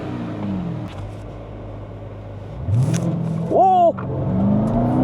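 A 2026 Dodge Durango Jailbreak SUV accelerates hard, its engine note rising sharply and loudly from close inside the cabin, with a person exclaiming briefly over the surge.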